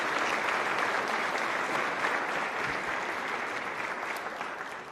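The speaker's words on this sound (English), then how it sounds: "Can we have a round of applause for those very generous sponsors?" An audience at a Milwaukee mayoral debate gives a round of applause for the event's sponsors, a full, even roar of many hands clapping that stays strong throughout and eases only slightly near the end.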